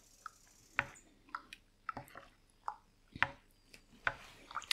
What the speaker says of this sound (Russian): Перемешиваю тесто.